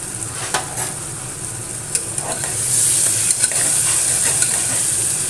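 Onions frying in oil with a spoonful of salt and half a spoon of sugar are stirred for a pressure cooker chicken curry: a steady close sizzle with scraping spoon strokes, growing louder and brighter midway.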